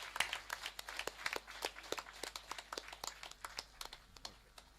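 Scattered, fairly faint hand claps from an audience at a pyramid meditation gathering, thanking the cooks who served the food, with sharp irregular claps continuing throughout and no talking.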